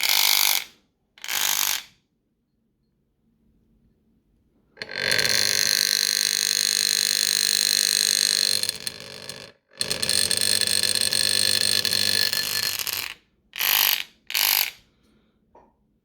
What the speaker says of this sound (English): This is a carbide graver that I'm using from a known brand, and it's just a generic carbide graver